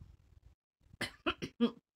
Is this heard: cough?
yes